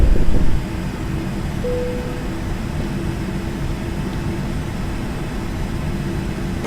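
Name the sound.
airplane climbing after takeoff in flight simulator video game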